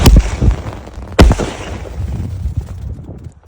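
Sivakasi jelly firecrackers going off nearby: two loud sharp cracks a second apart, with fainter pops and a fading rumbling tail between and after them.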